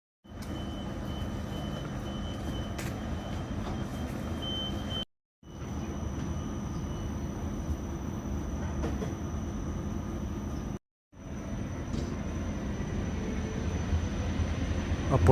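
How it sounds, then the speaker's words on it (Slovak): Siemens Taurus locomotive hauling a Railjet accelerating between Gloggnitz and Mürzzuschlag, a continuous rumbling drone from inside the train, steady and fairly loud, briefly cut twice. "A počujeme melódiu, stupnicu, ktorú počuť, keď sa lokomotívy Taurus rozbiehajú."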